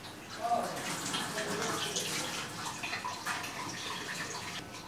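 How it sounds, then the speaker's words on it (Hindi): Water is squeezed out of chopped ingredients for a keema paratha filling, making a steady close splashing and trickling wash of liquid that carries on without a break. "अब हम इसमें से चीज़ों को बाहर निकाल लेंगे और पानी को निचोड़ देंगे"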